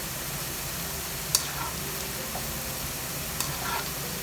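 Potato fries frying in oil for crispy fried okra and potatoes, a steady broadband sizzle with a couple of sharp pops, continuous and fairly close, with no talking.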